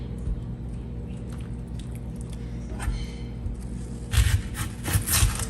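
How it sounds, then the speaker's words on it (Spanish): A knife slices an onion into thin rounds on a board, soft rubbing cuts over a low hum that become louder, sharper crunchy chops near the end. "empezamos a cortar en rebanadas nuestra cebolla"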